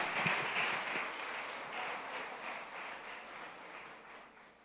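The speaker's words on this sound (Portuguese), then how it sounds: "Você pode dar uma salva de palmas?" Audience applause at a church cell-group gathering, a burst of clapping that starts strong and slowly fades over a few seconds, moderately close with no talking over it.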